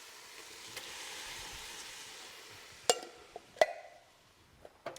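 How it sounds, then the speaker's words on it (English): Two cans of diced tomatoes go into a pot of sizzling spices for a chickpea curry in a Ninja Speedi cooker. A soft hiss swells and fades, then a few sharp clanks and splats follow near the end. "I'm gonna add the diced tomatoes, both cans"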